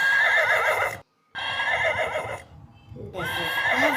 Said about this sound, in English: The horse is running. This is a running horse.